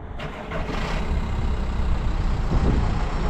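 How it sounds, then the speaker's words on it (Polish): A car engine runs steadily at idle, a continuous low rumble with no talking over it. "Słuchajcie, silnik chodzi bardzo ładnie."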